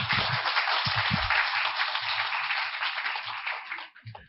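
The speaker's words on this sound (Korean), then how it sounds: "박수로 청해 주시기 바랍니다" An audience at an academic conference on Buddhism and counseling psychology claps to welcome a speaker, a continuous band-limited patter of many hands lasting about four seconds before tapering off.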